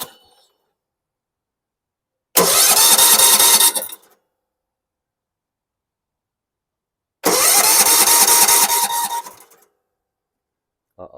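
A 2009 Yard-Machines riding mower on full choke cranks in two loud bursts of starter grinding, each lasting about one and a half to two seconds, separated by silence, and the engine does not catch.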